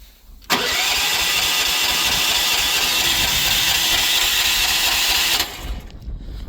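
Engine on a transport vehicle cranked with the choke hooked up, a loud continuous starter whir and churn lasting about five seconds close by, stopping abruptly without the engine catching.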